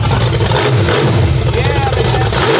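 The engine of a 1995 Chevrolet S10 street truck revs loudly and close up with a rough, throaty roar, and voices can be heard over it.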